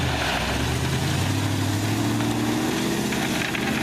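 A classic truck engine drones steadily and loudly up close, its pitch rising as the truck pulls away in first gear.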